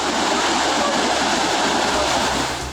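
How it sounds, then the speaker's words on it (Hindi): Floodwater from the storm-swollen Fukrao river in Kupwara surges through streets into residential areas as a steady, loud, broadband roar of rushing water that continues without a break. "सड़कों को चीरकर उफान मारता सैलाब, बाढ़ के पानी का रिहायशी इलाकों तक विस्तार"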